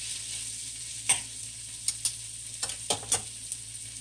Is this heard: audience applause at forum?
no